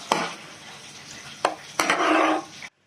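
Utensil stirring food in a pan while making caponata, with a few sharp scrapes and clinks, then a longer stretch of busy scraping and faint sizzle, close and fairly loud, with no talking.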